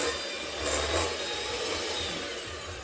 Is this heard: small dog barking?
no